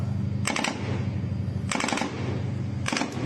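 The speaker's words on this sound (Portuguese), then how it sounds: "Esses tiros são os russos tentando destruir os navios, os drones" Three bursts of rapid automatic gunfire in Ukraine, each a quick rattling volley, separated by pauses over a constant low rumbling background.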